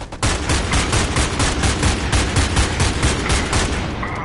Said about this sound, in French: On entend plein de coups de feu.